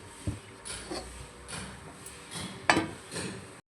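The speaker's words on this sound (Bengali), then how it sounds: "এটা ঢাকা দিয়ে এবার সেদ্ধ করে নেবো।" A lid set onto a cooking pot while making jhinge borar jhal, a Bengali ridge gourd fritter curry. It lands as one sharp, ringing metallic clank near the end, among softer kitchen knocks.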